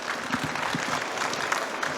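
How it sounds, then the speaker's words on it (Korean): Lecture audience at the Busan Korea Build architecture expo at BEXCO applauds a speaker, steady full-room clapping with a few lower thumps, no talk over it. "이채린 건수사님께 큰 박수 부탁 좀 드리겠습니다"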